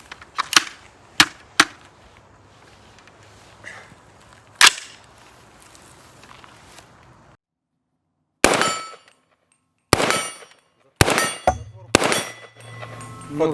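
Sharp rifle shots from a B&T APC300 carbine in 300 Blackout crack out one by one, a few spaced apart early, then a quicker string of loud reports after a brief silence.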